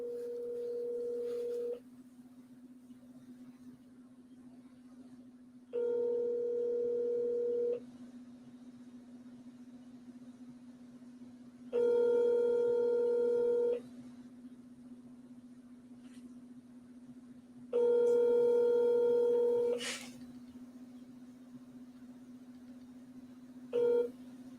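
Telephone dial tone humming steadily under repeated bursts of higher call-progress tones, four roughly two-second pulses spaced several seconds apart while a call is placed, fairly quiet and close, ending with a short blip.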